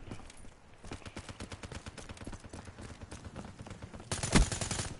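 Gunfire in the shooter Black Ops 3, with rapid bursts of shots through the clip and a louder, denser volley near the end.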